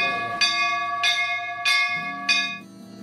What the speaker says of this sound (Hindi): सेंसर वाली घंटी बनाई गई, यानी जो बिना छुए सिर्फ चेहरा दिखाने पर अपने आप बजने लगती है